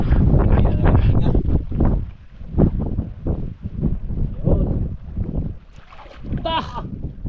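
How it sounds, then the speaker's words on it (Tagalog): Strong wind buffets a small fishing boat at sea, producing heavy rumbling gusts against the microphone, while someone talks over it and a brief higher squeal rises near the end. "Straight na yung hangin ah."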